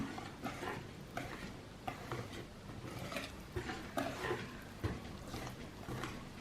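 Hand stirring of thick chocolate cake batter, a steady series of soft scraping strokes against a bowl, fairly quiet and close, with no talking.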